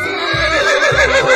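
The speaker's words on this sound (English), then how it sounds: "Horse." Cartoon horse sound effect: a loud, clear whinny with a wavering pitch, lasting just over a second, with a low rumble pulsing underneath. No voices.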